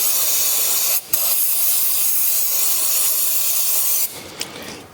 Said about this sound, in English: let me spray some electrical contact cleaner on those points